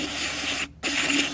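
Carburetor cleaner blasts from a spray can onto a tipped-over Murray 4.5 HP push lawn mower, a loud close hiss that cuts out briefly before a second burst.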